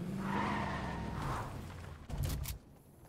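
A car in the Fortnite video game drives and skids, with a sustained tire squeal and engine sound, then a short burst of harsher noise near the end.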